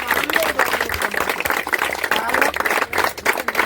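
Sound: applause for a girl football player

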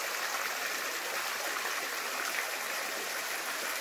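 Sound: water flowing out from between rocks into a stream

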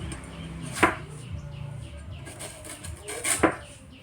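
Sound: cutting washed mangoes for pickle

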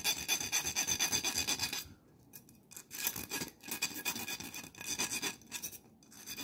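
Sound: filing metal burrs off a homemade bottlecap lure

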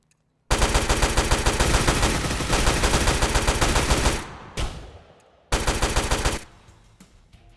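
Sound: gunfire in a video game shooter

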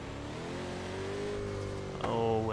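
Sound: car engine in Forza Horizon 3 video game

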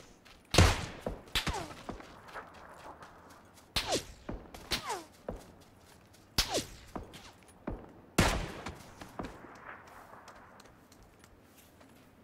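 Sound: gunfire in a video game

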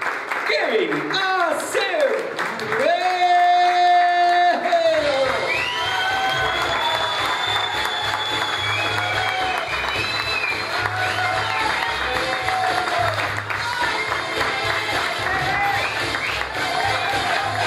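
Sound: audience applause at a stand-up comedy show

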